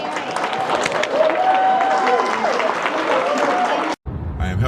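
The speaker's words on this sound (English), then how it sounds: "Another round of applause for Jerry." Loud, dense audience applause for a keynote speaker at a conference in Kalamazoo, with some cheering and crowd noise mixed in, then cutting off abruptly as a voice starts.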